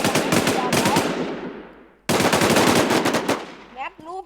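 Rapid automatic gunfire from a first-person shooter played in a gaming café, two long loud bursts of dense shots with a brief gap between them, ending in a couple of short tonal game sound effects.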